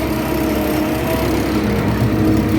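A tractor engine drones steadily as it pulls a disc harrow across a field being prepared for potato planting, a loud, constant mechanical hum with no pauses and no talk.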